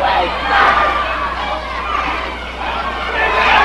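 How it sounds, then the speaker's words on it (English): Spectators at a Stampede Wrestling show shout and cheer in a thick, boisterous roar, with scattered yells rising above the crowd and the loudness surging and dipping slightly throughout. "this crowd is totally on fire"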